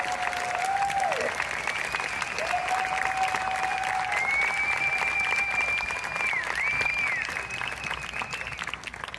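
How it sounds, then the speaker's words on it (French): Steady, dense applause from a concert audience in Montréal fills the space at full strength, with a few whistles rising over the clapping and no voices talking. "Applaudissez-les"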